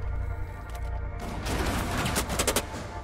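Gunfire erupts in the tactical shooter Rainbow Six Siege, a low rumbling start giving way to a dense, loud burst of rapid shots and crackling impacts that builds through the second half.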